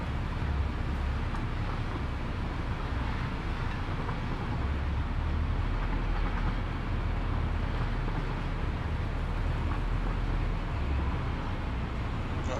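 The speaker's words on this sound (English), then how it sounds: "Well, that train is not going very fast." A train in Satisfactory rolls along at a slow pace, giving a steady, dense rumble with rattling, clattering wagon noise that holds evenly throughout with no talking.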